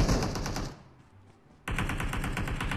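PUBG Mobile gunfire rattles in rapid automatic bursts, loud and close, with a brief lull in the middle before another sustained burst of shots.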